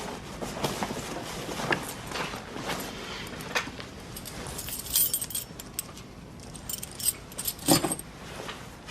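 Keys jangle in short metallic bursts within a scene of the Australian TV police drama Blue Heelers, clinking repeatedly over a few seconds with light handling noise and no speech, louder near the end.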